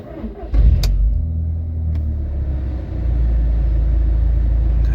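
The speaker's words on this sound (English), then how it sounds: "let's start the car up" A Mk1 Audi TT with the 1.8 T BAM engine cranks and fires, then settles into a loud, steady, low idle rumble heard close up from inside the car, with a few clicks at the start.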